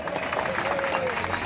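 Crowd at a political rally applauding, a dense burst of clapping and cheering close and loud, with a voice speaking over it.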